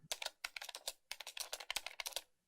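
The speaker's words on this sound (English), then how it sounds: "I recognize the sound of someone clacking away on the keyboard" Rapid clacking on a computer keyboard in a video game, close and crisp, in two quick bursts of keystrokes separated by a brief pause, with no voices.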